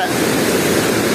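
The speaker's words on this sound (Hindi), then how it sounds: "यहाँ पर दरिया से पानी नहर में दाखिल हो रहा है।" River water rushes into a canal at Qadirabad barrage, a dense, continuous roaring wash heard loud and close with no break.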